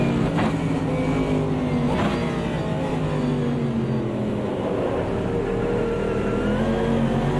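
A Mercedes AMG GT3 engine drones steadily through a race at Mount Panorama in Automobilista 2, a loud, continuous roar with a few gear-shift blips near the start as the car holds high revs throughout.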